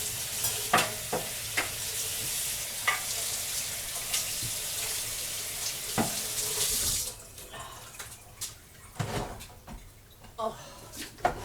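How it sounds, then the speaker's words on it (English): Running kitchen tap with hands being washed under it, a steady bright rush of water with splashy shifts for about seven seconds, then the flow stops and quieter kitchen clatter follows. "I'm going to wash my hands."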